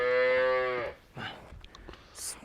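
A Holstein dairy cow gives one loud, close moo lasting under a second, followed by quieter farmyard shuffling and faint noises.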